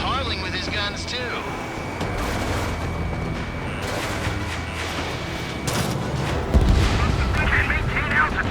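Gunfire and explosions from aerial combat in the Ace Combat 7 video game, a steady stream of shots and booms with a heavier blast near the end, under game radio chatter.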